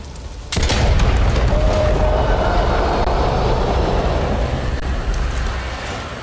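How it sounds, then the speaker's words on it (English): A mine is blown up in the video game Back 4 Blood: one sudden, heavy boom hits at once, then a loud rumbling roar fills the next several seconds and fades slowly, with no talk over it. "Now let's blow that mine."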